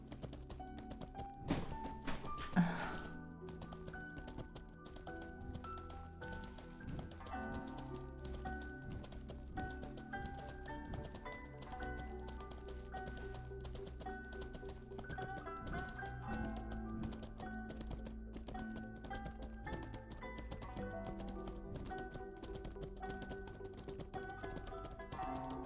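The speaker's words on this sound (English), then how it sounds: "Actually pretty soothing listening to the horse like this" A horse walking in Mortal Online 2, its hooves giving a steady, even clip-clop that runs unbroken for the whole stretch over a faint outdoor ambience, with a brief clatter near the start.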